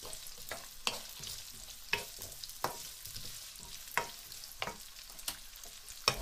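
Parsnips and other vegetables fry in a pot on maximum heat for a spicy parsnip soup, a steady close sizzle broken by sharp utensil scrapes and clicks every second or so, with no voices.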